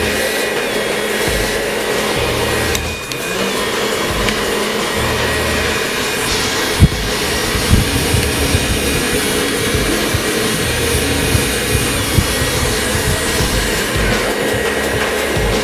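A hair dryer blows steadily and loudly throughout, its airflow roaring close while styling a faux hawk haircut, with faint brushing and handling noises under the constant whoosh.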